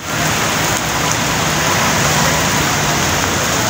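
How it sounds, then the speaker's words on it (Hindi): Heavy stormy rain pours down in Karachi, a dense, loud, continuous hiss of water hitting surfaces heard up close with no break. "ये ले जी भाई, कराची में तूफानी बारिश देख ले।"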